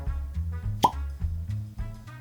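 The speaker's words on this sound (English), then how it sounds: "Cork pop?" A cork pops from a bottle of Bomberger's 2025 whiskey in a single sharp, close plop, surrounded by soft low handling sounds and muffled thumps.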